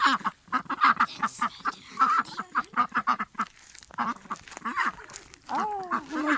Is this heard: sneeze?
no